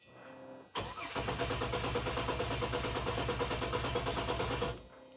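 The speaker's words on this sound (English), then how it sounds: "So we're just going to prime the pump." A car's ignition is switched on to prime the fuel pump. After a soft click, a steady mechanical buzzing whir runs for about four seconds, then cuts off, close and fairly loud, with no talking.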